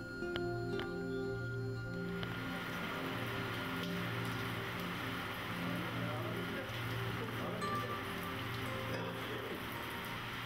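Steady rain falling at Yeniköy harbour, a continuous hiss of drops on water and boats, with a faint engine hum underneath.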